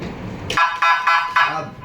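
A basketball scoreboard buzzer at a time out, sounding as four short, loud electronic blasts in quick succession, close and alone.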